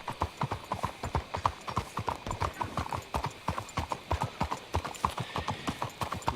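Horse hooves clip-clop in a steady, even walking rhythm in the video game Red Dead Redemption 2, crisp and close, with a faint murmur in the background.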